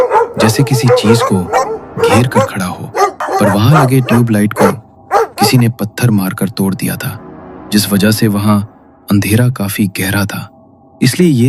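A pack of about ten to twelve dogs gathered under a street light pole at night, barking as a horror-story sound effect, sits low beneath continuous Hindi narration throughout.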